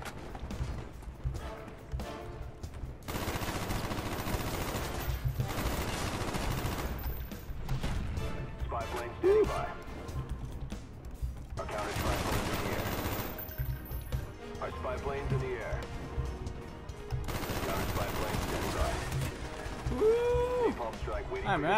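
Call of Duty Black Ops gunfire rattles in repeated machine-gun bursts under constant game noise, fairly quiet and distant, with a few louder stretches of fire.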